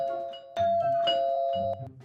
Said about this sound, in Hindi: उसके घर पहुंचकर दरवाजे की घंटी बजाते हैं